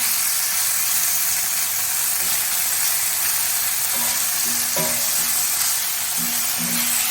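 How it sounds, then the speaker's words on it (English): Bacon sizzles in a pan with a steady, loud crackling hiss, faint higher tones and light clinks scattered over the frying. "And get this bacon going."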